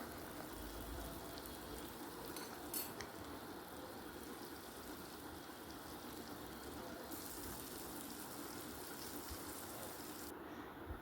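Kingfish (neymeen) frying in a pan, a steady, faint hiss and fine crackle of sizzling oil that continues without a break and with no talk.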